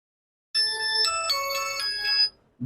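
An Infinix Hot 40i phone plays a bright melodic ringtone through its own speaker, loud and close, for about two seconds with nothing else heard.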